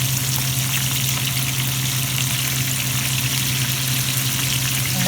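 A Scotch bonnet pepper and garlic cloves frying in oil make a steady, dense sizzle that holds evenly throughout, close and loud with no voices.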